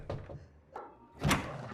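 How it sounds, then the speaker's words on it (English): Doors swinging shut in a house, heard as a few dull thuds and a louder slam near the end, fairly quiet with room echo and no speech. "all the doors swing shut and she is locked in"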